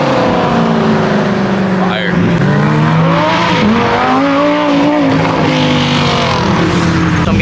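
Ferrari and McLaren cars leaving a rally, engines revving and rising in pitch as they pull away close by, loud and continuous, with people talking in the crowd.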